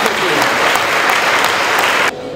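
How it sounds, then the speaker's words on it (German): Loud, dense applause from the audience at a celebration honouring Swiss Federal President Johann Schneider-Ammann. Many hands clap steadily and close by, then the applause cuts off abruptly near the end. "Ihnen danken wir noch mit einem kräftigen Applaus diese Arbeit"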